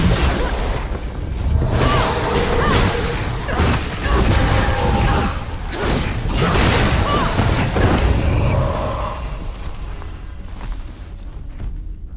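Barrels explode in a mine in the Flintlock game, with deep booms and crashing rumble followed by clattering debris and lingering rumble, loud and sustained before fading out.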